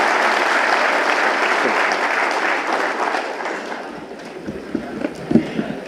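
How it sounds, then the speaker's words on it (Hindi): Audience at a training session bursts into dense, loud applause that thins and fades toward the end, where a voice begins speaking. "एक बार तालियों के साथ उसी एनर्जी को वापस लेके आएंगे जो सुबह थी हमारे लिए"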